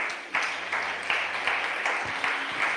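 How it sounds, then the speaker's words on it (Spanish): Congregation in a church clapping for the Lord, a rhythmic crowd applause with regular swells, loud and close, with no talk over it. "¿Qué le parece si le damos una ofrenda de palmas al Señor?"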